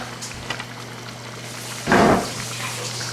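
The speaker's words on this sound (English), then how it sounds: "Let me wash my hands." Tap water runs briefly as hands are washed in a home kitchen during cooking, a short burst of splashing roughly half a second long against a quiet background hum.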